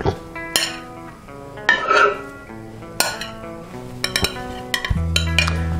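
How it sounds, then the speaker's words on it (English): Potato pancakes being moved onto a plate in a kitchen, with a scattered run of close metal utensil clinks, scrapes and taps against dishes, several sharp strikes, and a low hum entering near the end. "Put these on the plate."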